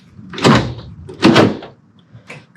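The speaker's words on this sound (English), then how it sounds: "But for now, I'm just going to put this door panel back together." Door panel on an Isuzu Rodeo being pressed back into place, giving two solid thumping knocks followed by a fainter third tap, close up in a quiet garage setting.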